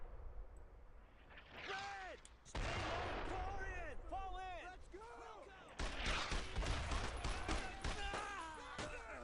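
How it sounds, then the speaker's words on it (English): Video game mortar and gunfire boom and rattle in bursts, with heavy impacts and sharp shots over a rumbling battlefield, while voices talk over the action. "Yeah, it's artillery, I'm sorry, it's a mortar"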